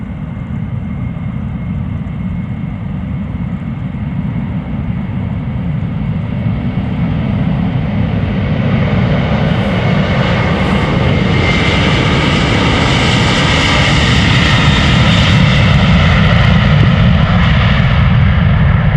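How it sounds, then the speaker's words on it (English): An Airbus A330-300 jet takes off at Amsterdam Schiphol, a broad engine roar building steadily louder across the whole stretch with a rising high whine layered on top. "Flight 237, it is pulling up already. A330-300, 9 years old,"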